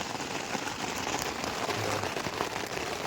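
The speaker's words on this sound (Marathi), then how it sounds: "आणि पूर्ण बाहेर पाऊस चालू आला जोरात" Heavy rain falls steadily outside in a forest at night, a dense continuous patter of drops on surfaces, close and even with no voices.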